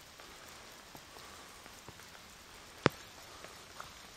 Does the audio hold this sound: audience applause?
no